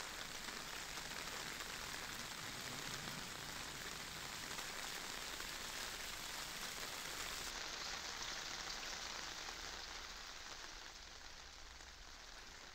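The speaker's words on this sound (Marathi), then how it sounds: "चांदूर बाजार तालुक्यात मुसळधार पाऊस कोसळतोय" Heavy monsoon rain pours down in Chandur Bazar taluka, Maharashtra, a steady, dense hiss of drops on surfaces that stays even and continuous, easing only slightly toward the end.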